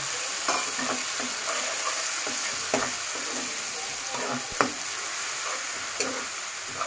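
Tomato paste sizzles as it hits fried onions in a pan for a Bengali bata fish mustard curry, a steady broad hiss broken by a few sharp stirring scrapes and clicks, close and alone.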